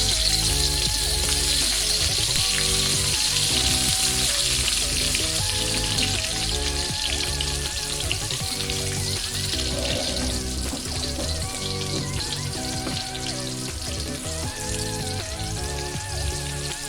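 Sliced shallots sizzle in a few spoonfuls of hot oil in a home kitchen pan, a steady loud crackling fry throughout, with background music playing underneath.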